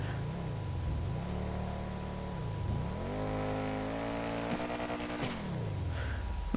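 Engine note of the Osiris supercar in GTA 5 rises and falls through repeated revs, harmonic whine sweeping up and down, then settling into a higher sustained drone with brief sharp transients near the end.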